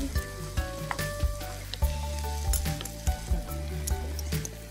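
Ginger paste and spices fry in hot oil in a pan, a steady close sizzle broken by a series of soft regular knocks and scrapes, with no talking.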